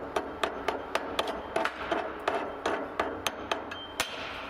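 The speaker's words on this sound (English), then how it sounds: "We'll chip this slag off. Should wait for it to cool, but I'm going to start chiseling now." Slag is chipped off a 7018 vertical fillet weld with a steady series of sharp metallic strikes, about a dozen hits in an even rhythm, close and fairly quiet.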